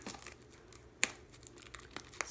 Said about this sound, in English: How do I cut into this? Just snip.